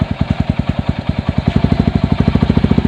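Bajaj CT-100 motorcycle engine running close by at a fast, steady idle, giving a loud rhythmic thumping putter that quickens slightly as it warms up.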